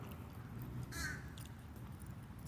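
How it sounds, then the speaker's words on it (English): A crow outdoors on a street gives a single faint caw, heard alone over a low, steady background hum. "look at that bird already in there"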